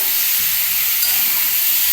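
Diced pumpkin pieces frying in oil in a pan, a loud, steady sizzle with a constant bright hiss and faint stirring, no talking.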